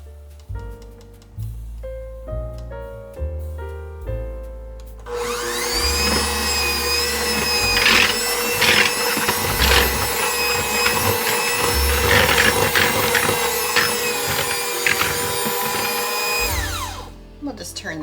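Electric mixer whirring steadily at close range as it beats whipped shortbread dough with sifted icing sugar, a sustained motor drone lasting about twelve seconds after some earlier clatter.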